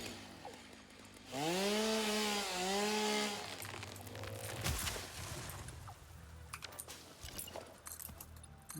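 A chainsaw in the video game Satisfactory revs up and cuts for about two seconds, a loud rising and falling engine whine, followed by quieter scattered rustling and clatter.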